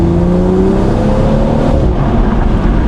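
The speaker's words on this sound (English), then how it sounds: "Literally all you can hear is the turbo going." A BMW M235i fitted with a sports cat exhaust accelerates hard, its engine and turbo making a loud, close, rising roar with a steady whine climbing in pitch.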